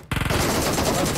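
Loud, close automatic gunfire from a video game during a scrim match, one unbroken rapid burst of shots that fills the whole moment, with no talking over it.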